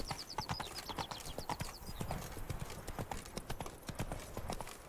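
Horse hooves clip-clop at a steady galloping rhythm in The Witcher 3, loud and continuous with no talk over them.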